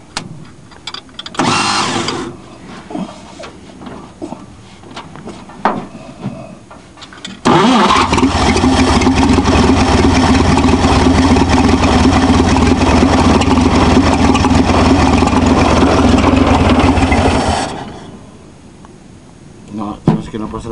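A 1952 Pontiac engine, with a reworked fuel pump, cranks and catches, then runs at a loud, steady idle for about ten seconds before cutting out. Brief voices and handling noises come before the start.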